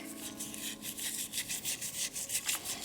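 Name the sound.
steel wool rubbing rust off a clock bell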